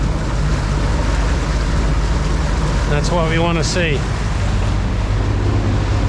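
A steady, loud boat engine drone at about 2200 rpm with rushing water and wind fills the clip, and someone briefly speaks over it midway.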